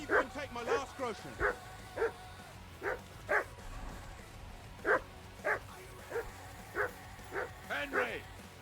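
A dog in the medieval game Kingdom Come: Deliverance II barks repeatedly in short, evenly spaced yips and woofs, moderately close, with a few whimpery tones and faint background ambience.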